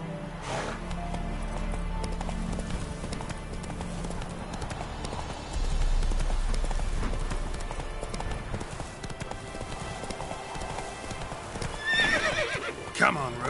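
Roach the horse in The Witcher 3 clip-clops along at a gallop with steady hoofbeats, then lets out a loud neigh near the end, while a rider's voice speaks over the action.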